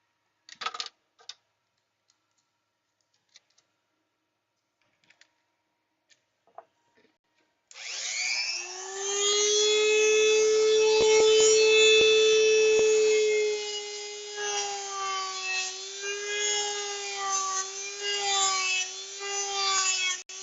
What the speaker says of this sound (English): I will switch out this tool to the grinding wheel, or rather the sanding wheel